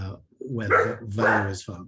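A pet dog barks several times indoors, close and loud, the sharp yelps overlapping a man's speech during an online workshop.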